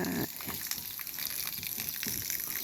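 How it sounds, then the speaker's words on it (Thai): Mountain water flowing constantly in an outdoor garden setting, a steady rushing gush with a few louder bursts. "ตรงนี้จะเห็นว่ามีน้ำไหล น้ำนี่มาจากบนเขานะครับ น้ำไหลอย่างนี้ ทั้งปี"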